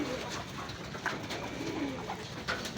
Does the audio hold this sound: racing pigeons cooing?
yes